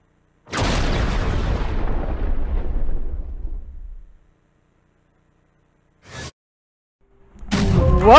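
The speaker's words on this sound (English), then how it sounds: "It is hot there because there is explosions." A deep, loud explosion booms and rumbles for several seconds before decaying, followed after a silence by a brief burst and then another heavy blast building at the end.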